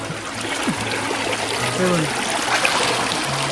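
A mountain stream in a forest rushes with steady broadband flowing and trickling water from a hillside, close and continuous, with brief faint bird-like chirps over it and no talk.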